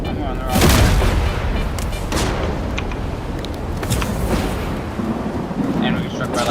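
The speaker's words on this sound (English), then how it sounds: "And we get struck by lightning, that's huge." A lightning strike in the Stalker 2 video game sets off a loud rolling thunder boom amid steady rain and crackling noise, close and powerful throughout.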